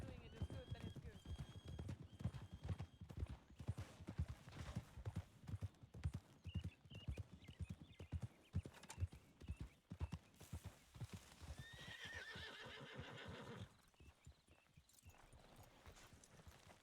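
A horse in Red Dead roleplay (WildRP) clip-clops along in a brisk, regular hoof rhythm and whinnies partway through, with game ambience behind, before the hoofbeats thin out near the end.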